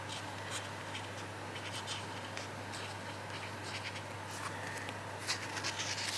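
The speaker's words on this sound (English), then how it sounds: "And then I've got a fountain pen." A fountain pen nib scratches across good-quality paper in short, close strokes, soft and rhythmic over a steady low hum, with no talking.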